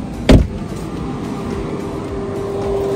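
A Tesla's power trunk releases with a sharp clunk, then its motor hums in a steady, faint whine as the lid lifts.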